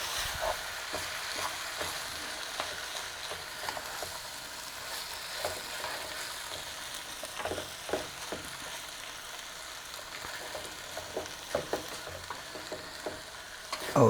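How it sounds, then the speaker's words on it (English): A meat mixture for Persian dolma is stirred and scraped in a sizzling pan, a steady close frying hiss with irregular scraping clatters throughout. "Mix it well."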